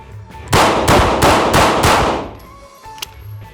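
Five loud pistol shots from a Taurus G2C, fired in a quick, steady rhythm close by, each crack trailing into the next before fading to quiet ambient noise.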